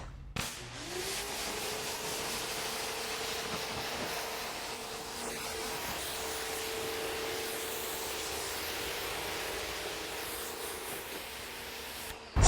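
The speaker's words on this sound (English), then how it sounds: "now I'm gonna give it a quick rinse" Water sprays from a hose in a quick rinse over a car being prepped for polishing and ceramic coating, a steady, even hiss running for the whole stretch with no talk.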